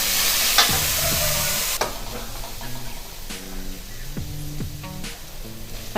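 Vegetables sautéing with curry leaves and coriander in a pan, carrots and beans among them, giving a steady close sizzle and hiss with scattered stirring scrapes, no voices.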